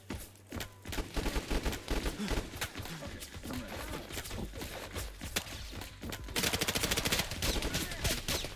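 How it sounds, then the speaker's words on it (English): An MP7 submachine gun in a Half-Life inspired video game fires in repeated rapid automatic bursts, loud and close, with a sustained stream of shots near the end and occasional voices underneath. "God, the MP7's lack of recoil makes me happy."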